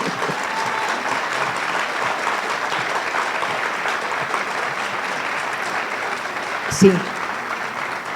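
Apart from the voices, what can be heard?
audience applause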